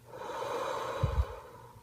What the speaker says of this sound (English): So again, you just inhale and you blow it all out.